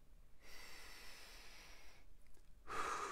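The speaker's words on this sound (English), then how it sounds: "let's take a deep breath together" Slow, deep breathing from one person during a calm group relaxation, with a long soft exhale, a quiet pause, then a stronger breath near the end; close and gentle, with no talking.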